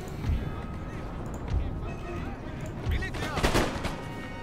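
Musket volleys ring out in a battle in the Empire: Total War strategy game, with several sharp bursts of gunfire at irregular intervals over a steady din of battlefield noise.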